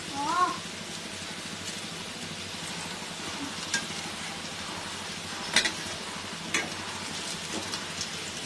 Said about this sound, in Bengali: উল্টে পাল্টে এগুলো সুন্দর করে ভেজে নিতে হবে।